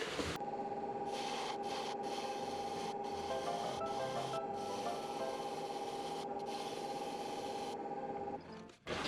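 Segmented maple, MDF and resin bowl turning on a wood lathe: a steady motor whine with continuous close scraping of the cutting tool, running alone and evenly until a brief dip at the end.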